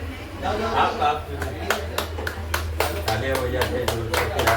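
Scattered hand claps ring out at a weekly business networking meeting in Kalwa. They start sparse and then come as a loose, quickening run over a steady low hum, with people talking underneath.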